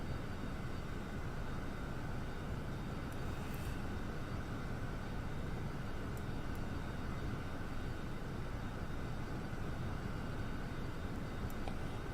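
An airplane engine drones steadily in the X-Plane flight simulator, a constant broadband roar with a steady hum that runs unbroken and without speech.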